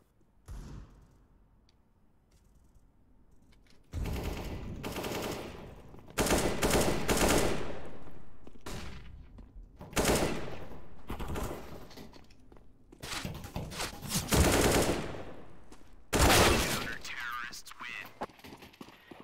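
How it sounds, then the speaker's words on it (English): Gunfire in the shooter game CS:GO on the Dust 2 map, loud bursts of rapid shots in several clusters separated by short pauses, punchy and close. "The bullets went, like, pop, pop, pop, pop."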